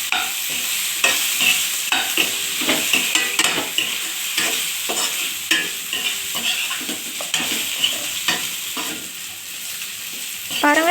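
Pre-fried mushroom, paneer and cauliflower are stir-fried for vegetable fried rice. A loud, continuous sizzle runs under repeated scraping and stirring strokes from a spatula in the pan.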